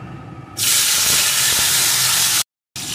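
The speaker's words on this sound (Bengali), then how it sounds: "এখন আলুটাকে লাল লাল করে ভেজে নেব।" Cut potato pieces hit hot oil in a pan with a sudden loud, sustained sizzle and hiss that continues strongly, then briefly cuts out and resumes.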